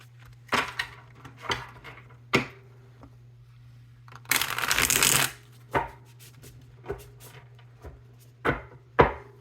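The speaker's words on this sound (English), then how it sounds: "One more good shuffle." Tarot cards being shuffled in repeated crisp riffles and slaps, with one longer dense burst of card flicking in the middle, all close and fairly quiet over a steady low hum.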